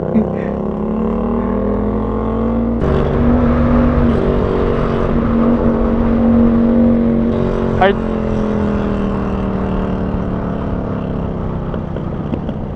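Motorcycle engine droning on a highway ride in Mindoro, a loud steady hum with wind noise close by, shifting pitch as the bike changes speed, with a brief whistling tone partway through.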